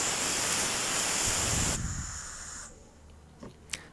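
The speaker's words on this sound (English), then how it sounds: "For sure I will use pressurized air" Compressed air blasts in a loud, steady hiss into Cadillac ATS connector terminals just cleaned with contact cleaner, then stops abruptly, leaving quiet with a couple of faint clicks.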